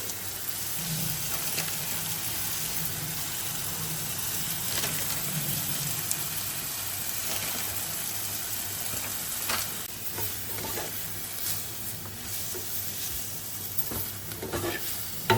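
Babas kurma powder fries in a claypot for a sizzling veg kurma curry, giving a steady close crackle and hiss with occasional stirring scrapes throughout.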